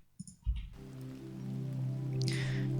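Rain patters softly beneath a slow, sustained synth pad in the intro of a music track, with the pad swelling in and holding a steady drone while light droplet noise drifts above.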